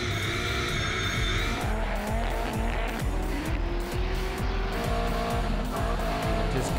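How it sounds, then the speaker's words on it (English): A Nissan S15 race car on Wakefield Park does victory skids, its engine revving hard in rapid rhythmic bursts while tyres squeal continuously, loud and close throughout. "Let's listen to this Duar's performance, engine sing, and Pos knows how to do a skid."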